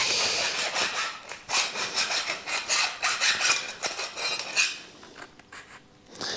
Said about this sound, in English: if only you could help me deburr these holes, because there's about 7 million of them